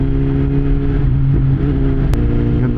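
Road traffic hums and whirs around a slow motorcycle ride in single-file traffic, a steady low engine drone with a brief sharp click near the end and no talking.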